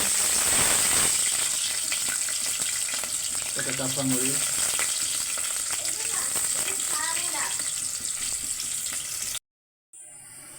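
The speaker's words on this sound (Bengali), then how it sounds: "তেলটা গরম হয়ে গেছে এখন পেঁয়াজ দিয়ে দিল" Onions frying in hot oil give a loud, continuous close sizzle, while a child and an adult speak briefly over it; the sound cuts out abruptly near the end.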